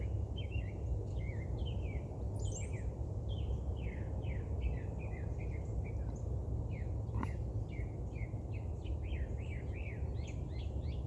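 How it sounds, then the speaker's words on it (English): Several birds sing and chirp in quick, overlapping phrases, fairly faint, over a low steady outdoor hum. "Listen to those birds."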